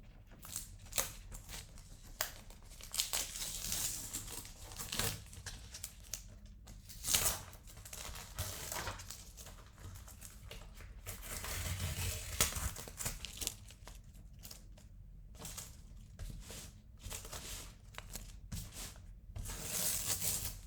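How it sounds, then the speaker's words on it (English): Tape slowly peeled off a watercolor portrait on paper: close, quiet crinkling and tearing rasps in irregular stretches across a long span, with no talk. "and now the best part, which is taking the tape off."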